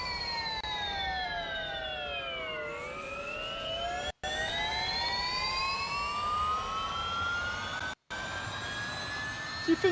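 A Lotus Evija electric hypercar in Real Racing 3 gives off a loud, steady electric motor whine that swoops down in pitch and then climbs again as it accelerates, heard from inside the cabin with two brief dropouts.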